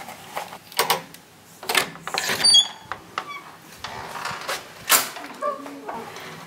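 A hotel room door at the Palace of Golden Horses in Malaysia is opened with a key card, giving a series of close clicks, a short electronic beep, a latch clack and creaks of the door moving.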